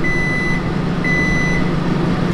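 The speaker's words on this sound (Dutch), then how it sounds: "Deze magnetron, die geeft dan aan dat die klaar is, gaat die piepen, maar het blijft doorgaan." A microwave oven sounds its finished signal and keeps going as if faulty: two long, steady electronic beeps with a short gap between them, heard over constant loud background noise.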